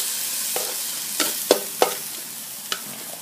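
Nam prik ong is stir-fried in a pan with little oil, a soft sizzle under a handful of sharp scraping strokes of a spatula against the pan, close and fairly quiet, with no talking.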